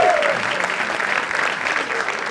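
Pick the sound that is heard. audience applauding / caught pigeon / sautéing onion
audience applauding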